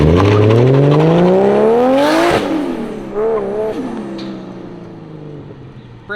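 A JZ-engined coupe revs hard and pulls away, its engine note climbing steeply, loud and close, then easing off and fading as the car drives away.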